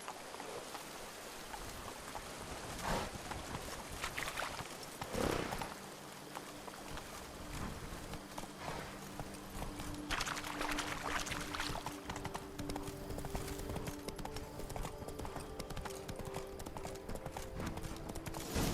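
In The Witcher 3, set in the Toussaint vineyard region, horse hooves clip-clop in a steady, fairly faint rhythm beneath a busy wash of ambient game sound and a low, flowing background.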